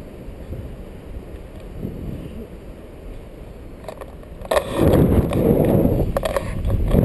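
Wind gusting over a microphone while tandem paragliding high above the Blorenge, a steady rough rumble that surges louder partway through, with faint voices underneath.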